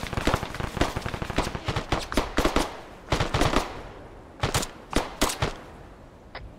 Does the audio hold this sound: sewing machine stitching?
no